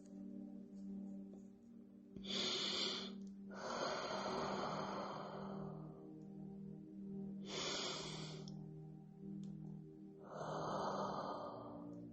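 Slow, deep breaths sound close and alone, each long airy inhale and exhale separated by quiet pauses over a soft steady background hum.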